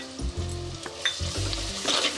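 Tomato pieces and ginger-garlic paste frying in a pan for a Telugu yam and egg curry, a steady close sizzle with rhythmic scraping stirs and low clatter, no voices.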